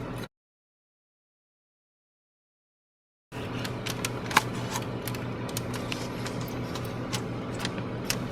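A plastic pry tool works around the front dash fascia of a 2012 Dodge Charger, popping locking tabs loose with a series of small sharp clicks and snaps over a steady low hum, close and fairly quiet.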